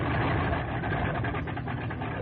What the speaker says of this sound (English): the starter is engaged until the engine runs smoothly